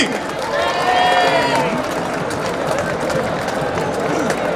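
Stadium crowd at Jamsil Baseball Stadium during a Hanwha versus Doosan baseball game, a broad wash of clapping and cheering with a voice over loudspeakers briefly at the start, steady and loud throughout.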